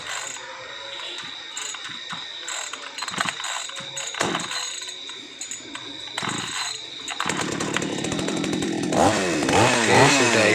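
A small chainsaw engine, its clogged carburetor just repaired, is cranked by pull cord: a few rough rattling pulls, then the two-stroke motor catches and runs loud and buzzing, rising steadily in pitch and intensity at close range.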